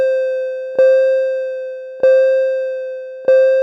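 A one-bar loop from an Ableton looper send repeats a steady sustained synth tone with a sharp retrigger about every 1.25 seconds, three times, clean and alone.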